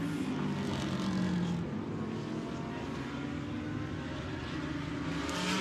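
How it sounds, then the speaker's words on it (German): GT3 race cars leave the pit lane toward Turn 1 at Brands Hatch during a GT World Challenge Europe practice session, their engines a steady distant drone that holds throughout. "Die GT3-Fahrzeuge rausfahrend aus der Boxengasse Richtung Turn 1."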